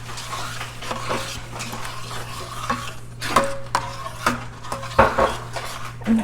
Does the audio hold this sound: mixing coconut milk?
yes